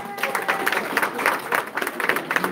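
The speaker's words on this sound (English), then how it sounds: "Let's give him a big round of applause." A congregation at a Martin Luther King Jr. celebration in St. Paul Cathedral gives a round of applause, dense and fairly loud, pulsing in a loose rhythm throughout.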